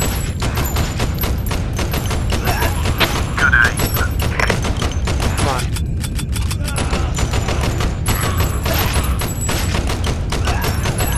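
Gunfire in the video game Crisis Brigade 2: Reloaded comes as dense, continuous rapid bursts with heavy thumps mixed in, loud and close. There is a brief lull partway through.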